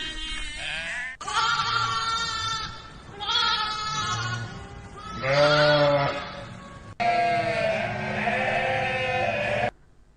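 Sheep and goats bleat repeatedly as a story sound effect for a shepherd's flock, several long wavering calls one after another, loud and close with no talk over them.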